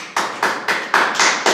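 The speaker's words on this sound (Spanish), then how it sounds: "Vamos a dar un aplauso a Dios." Church congregation clapping in quick, loud bursts, about six sharp rhythmic claps close by with no talk over them.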